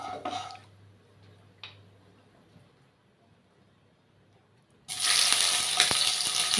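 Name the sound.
oil heating in a wok on gas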